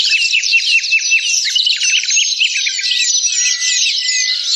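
A lively chorus of birds chirps and trills nonstop, with quick repeated high notes from several birds overlapping.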